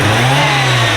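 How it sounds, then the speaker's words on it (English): Car engine with a turbo revving, a steady loud growl held close for about a second with no voices. "So let's hear this thing revving out, dude."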